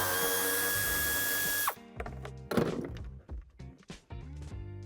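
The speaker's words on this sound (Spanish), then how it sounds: "Justamente donde apoya la bandeja tendremos que quitar el otro tornillo" A screw being taken out of the interior trim of a 2018 Audi A7 Sportback: a power driver whirs steadily for a couple of seconds, then uneven clicks, ratcheting and dull knocks follow close by.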